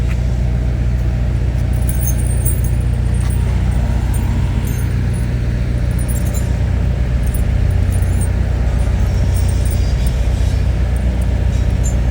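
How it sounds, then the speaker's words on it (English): A truck slowly backing up while snow chains are fitted, its loud steady engine rumble and road noise continuous and close, with faint clinking high up. "Alright, so you back the truck up a little bit."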